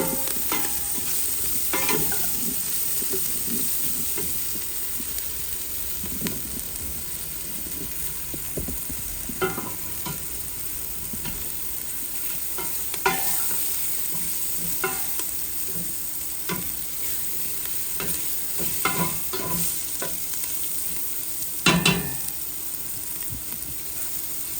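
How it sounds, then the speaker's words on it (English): A seafood boil being stirred in a pot: a spoon scrapes and clinks against the sides in uneven strokes over a steady simmering sizzle, close and continuous, with no talking. "Just keep stirring it."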